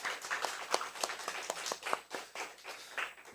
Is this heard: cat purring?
no